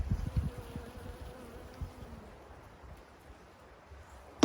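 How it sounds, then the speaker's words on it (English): A bee buzzes faintly around a native saw palmetto plant in a Florida food forest, a thin steady drone close by that fades toward the end amid soft outdoor rustling. "Actually got a bee on it right now."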